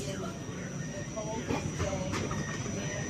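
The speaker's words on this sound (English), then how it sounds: "Oh, we got another train exiting the yard." A train leaving a rail yard, a steady broad rumble and hiss of rolling cars with faint metallic tones, continuous and moderately distant, with voices talking over it.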